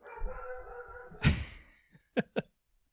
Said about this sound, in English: where'd that dog come from?